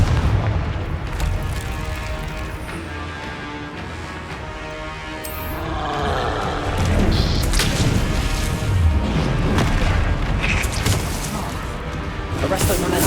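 Confringo spell explosions go off in Hogwarts Legacy combat as a series of heavy booms and crashes over rumbling battle noise, growing louder and denser partway through.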